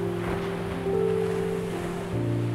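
Ocean waves washing onto a sandy beach, a steady continuous surf roar with a low constant hum and light wind noise running through the whole stretch, no voices.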